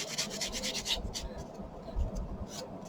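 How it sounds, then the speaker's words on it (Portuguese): Sandpaper rubs over putty spread on a cardboard heart in soft, quiet, repeated back-and-forth strokes, close up and with no voices. "Você sai lixando."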